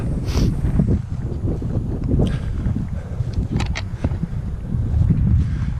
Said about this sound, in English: Wind's just picked up a little bit, but nothing to speak of.